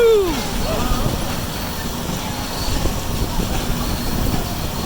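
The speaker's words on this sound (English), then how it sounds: "I think it's time for the first and last ride of 2021 to go on the Scenic Railroad train tour of Lake Winnie." Scenic railroad tour train at the Lake Winnie amusement park, a steady rumbling rail roar with a brief high wheel squeal at the start, close and continuous.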